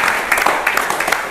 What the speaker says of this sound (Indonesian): Coba tepuk tangan buat kita semua.